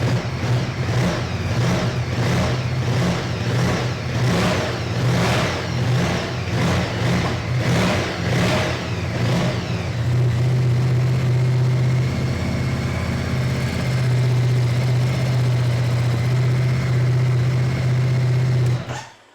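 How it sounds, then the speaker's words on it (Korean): A 2020 Ducati Multistrada 950 S engine and exhaust, recorded close, blip the throttle in a quick series of rhythmic revs for about ten seconds, then settle into a steady, throbbing idle until a sudden cutoff. "일단 두카티의 엔진 배기 사운드는 아무래도 비슷비슷합니다"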